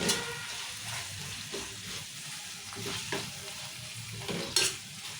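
A spoon stirring cabbage curry in a hot pan after salt and turmeric go in, with soft scraping strokes over a low, steady sizzle, close and fairly quiet.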